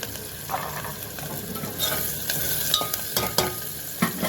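Onions fry in a pan with salt and turmeric, a steady close sizzle broken by the scrape and clatter of stirring, with no talk.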